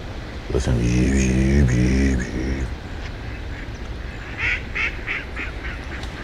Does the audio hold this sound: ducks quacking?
yes